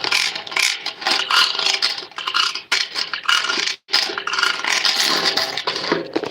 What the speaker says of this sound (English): dragging my keys across this metal.